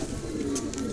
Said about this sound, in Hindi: शौक के तौर पे पाले हैं ना कबूतर